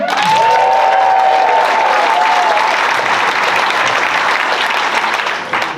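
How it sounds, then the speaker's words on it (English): Loud, sustained applause from a comedy club audience with whoops and cheers rising over it, filling the room before slowly easing off. "Make some noise for Aaron Berg."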